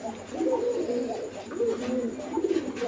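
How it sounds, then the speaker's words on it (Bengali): Indian Bombay pigeons cooing up close in soft repeated throaty phrases, several overlapping calls across a few seconds with faint background noise. "এগুলো হচ্ছে বোম্বাই কবুতর অ্যান্ড এগুলো ইন্ডিয়ান বোম্বাই"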